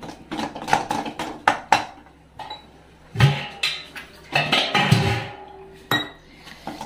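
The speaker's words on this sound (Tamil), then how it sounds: "லேசாக வறுத்துக்கலாம்" Spices with turmeric powder are lightly roasted in a pan while cooking mutton biryani and side dishes, and a spatula knocks and scrapes against the metal in irregular, close clinks over a low background hum.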